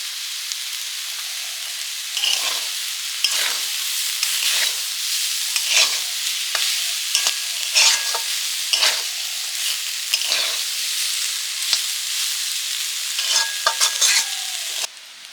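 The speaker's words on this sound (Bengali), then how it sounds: "এবারে দিয়ে দিচ্ছি পোস্ত কাঁচা লঙ্কা" Poppy seeds and green chilies fry in mustard oil in a pan for potato curry, with a steady sizzle broken by repeated scraping stirs every second or so, close and fairly loud, no talking.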